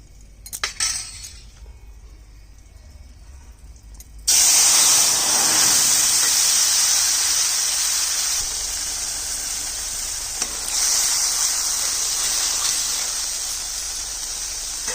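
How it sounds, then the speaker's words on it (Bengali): A paste of poppy seed and mustard seed, mixed with water, is poured into hot oil. Faint clinks come first, then a sudden loud, hissing sizzle starts and holds steady, easing off a little toward the end. "এবার এই মশলাটা একটু জল দিয়ে গুলে তেলের মধ্যে দিয়ে দিব।"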